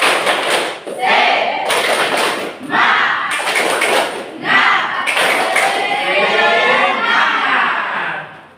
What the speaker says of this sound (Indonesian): Kita melakukan ice breaking ini tepuk semangat.